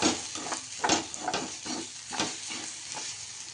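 Green chillies roasting in a hot pan for Maharashtrian thecha give a steady close sizzle, broken by periodic stirring scrapes and crackles.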